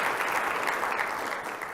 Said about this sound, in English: So please give a loud round of applause